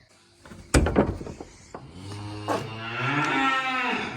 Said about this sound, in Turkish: Yukarı çıkmadan önce yedirmiştim inekleri.